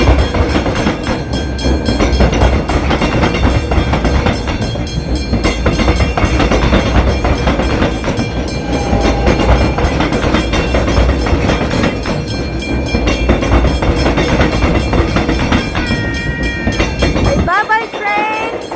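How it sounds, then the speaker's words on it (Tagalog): A train passing close by, loud and continuous with a rolling rumble and rhythmic clatter of wheels for most of the stretch before cutting off. Brief voices can be heard near the end. "Bye-bye, train."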